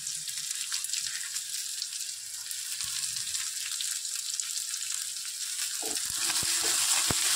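Onions and spring onion greens sizzling steadily as they sauté in a pan, a continuous close crackling fry with a few clinks of a spoon toward the end and no voices.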